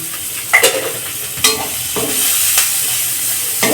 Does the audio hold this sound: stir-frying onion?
yes